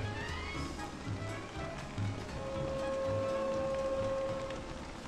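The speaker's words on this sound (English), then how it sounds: "Can't do much when the rain is here." Steady rain patters in the game Don't Starve: Reign of Giants, a soft continuous hiss with a low rumble beneath, while faint game tones ring over it.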